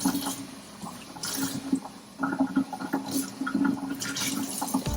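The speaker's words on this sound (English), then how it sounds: "So we're just rinsing out the substrate really good, getting the crap out." Water runs and splashes while substrate from a water turtle's filter is rinsed out, an irregular sloshing and gurgling flow close by, with no talk.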